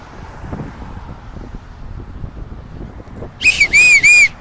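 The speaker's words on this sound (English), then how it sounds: "My whistle was hoarse." A whistle at a street protest gives three sharp shrill blasts near the end, loud and close, following several seconds of wind noise and quiet.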